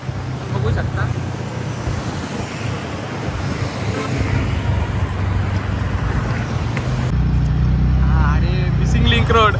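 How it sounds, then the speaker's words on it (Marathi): Cars pass steadily on the Mumbai-Pune Missing Link road, a broad continuous traffic rumble with some voices talking over it nearby. "या इकडून मुंबईच्या दिशेने गाड्या येतात"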